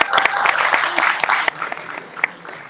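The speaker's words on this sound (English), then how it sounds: "So a big round of applause for them," An audience at a charity awards finale in Ireland gives a round of applause. Dense, loud clapping swells early and thins toward the end, with sharper individual claps standing out.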